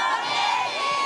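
A concert audience at an outdoor televised music show in Andong shouts a singer's name in unison, a dense, loud crowd roar sustained for about a second.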